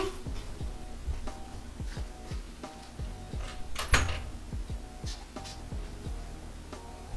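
A car door shuts inside GTA 5 on a 2021 BMW M4, with one sharper thud standing out midway. Faint repeating clicks or tones run steadily around it, and no one speaks.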